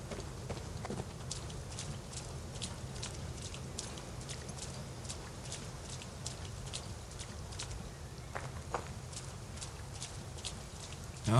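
Horse hooves clip-clop at a steady walking rhythm in Assassin's Creed Valhalla, moderately close and fairly quiet over a soft ambient backdrop.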